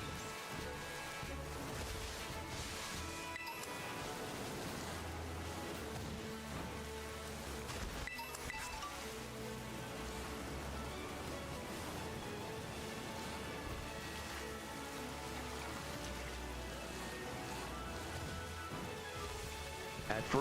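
Rain in the Pokemon Violet video game, a steady, faint wash of falling rain that continues evenly throughout without pause.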